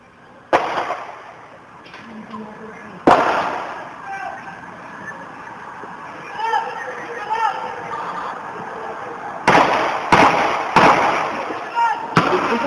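Gunshots ring out at night on an MIT campus in Boston, caught on a bystander's phone: several sharp cracks with echo, some spaced apart and a quicker cluster near the end, over distant crowd noise and voices.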